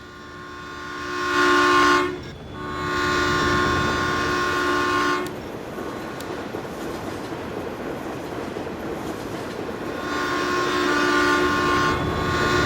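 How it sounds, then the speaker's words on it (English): Eastbound and westbound trains pass through a small Nebraska town at the same moment in an American farming game, with a sustained horn blast and steady rolling rail rumble that continue for several seconds, then a second horn sounds near the end. "A rare time where the east and westbound trains cross town at the same moment."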